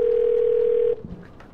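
Steady dial tone from a phone in the video game 12 Minutes holds loud and clean for almost a second, then cuts off into a low click and faint handset noise.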